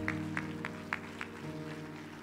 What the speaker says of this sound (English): Don't you stop clapping.